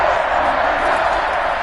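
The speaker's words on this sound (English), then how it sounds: "the crowd getting into it as we come up on a big third down" A football stadium crowd roars as a big third down approaches, a loud, steady wall of cheering and noise with no distinct breaks.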